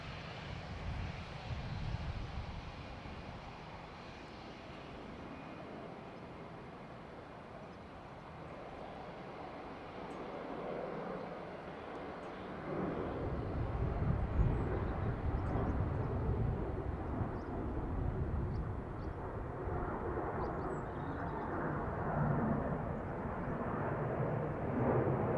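A Ryanair airliner arriving from Manchester passes at Dublin Airport, engine rumble faint at first, then growing into a deep, heavier roar in the second half before easing slightly, heard from a distance.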